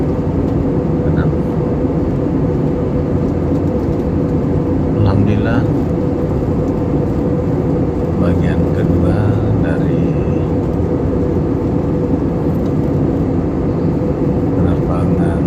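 A loud, constant low engine drone fills an airplane cabin on a flight from Sorong to Makassar as landing approaches, while someone speaks over the steady roar.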